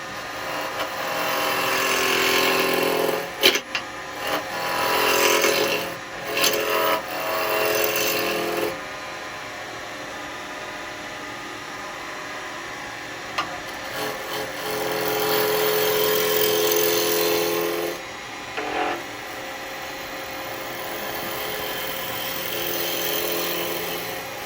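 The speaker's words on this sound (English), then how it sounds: "I'm just roughing it down to there for now" A wood lathe roughing down a ring box blank gives a steady, loud, broadband scraping hiss that runs almost without a break, with short dips and catches as the tool shifts on the spinning wood.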